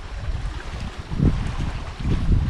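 Wind gusting steadily over choppy water on Lake Agnes, a low blustery roar with buffeting rumbles against the microphone that swell and ease, with no voices.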